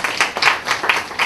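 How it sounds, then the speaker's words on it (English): Rhythmic clapping at a Rabindrasangeet evening in a Crossword bookstore, a few distinct claps standing out over a short burst of audience applause with no talking. "a big round of applause for Crossword and the excellent team"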